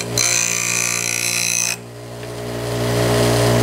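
Bench grinder grinding the corners of a hand plane blade, a loud steady motor whine with a bright grinding rasp that cuts off, and the motor hum then keeps running.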